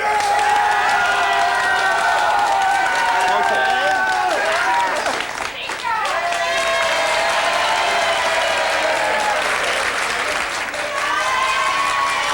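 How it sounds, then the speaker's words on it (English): A television studio audience applauds and cheers loudly and continuously in a vintage TV program, with sustained clapping, whoops and rising voices over the whole stretch. "you will give your applause for the worst dressed"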